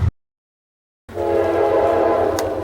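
After a brief cutout of total silence, a loud train horn blares in a sustained, steady chord, close by, over the rumble of the train along the Erie Canal.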